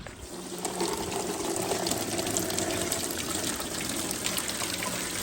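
Water runs steadily through a recirculating gold-mining highbanker, a continuous rushing and trickling flow into the hopper that starts softer and holds at an even, close level with no talk.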